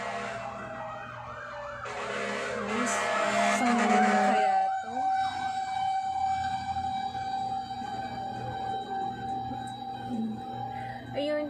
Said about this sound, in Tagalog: Kanina pa yung mga wangwang.